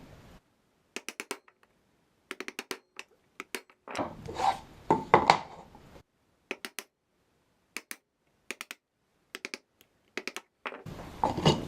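A hand saw cuts a wooden dovetail along a scribe mark in repeated short bursts of strokes separated by pauses, close and crisp, with no one talking.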